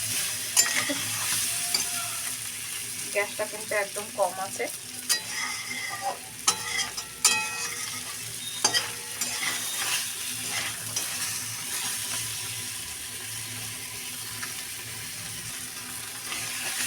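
Prawn heads fry in a little oil with a steady soft sizzle, broken by scattered utensil clinks and stirring scrapes, while a voice speaks briefly.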